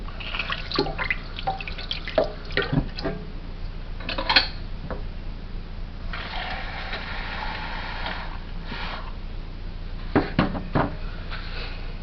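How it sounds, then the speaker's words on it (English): Water is poured into a blender jar holding passion fruit for juice, a splashing pour among drips and clinks of kitchenware, with bursts of clatter scattered throughout. "I'm just putting a little bit of water to be able to blend, and after I will add more water."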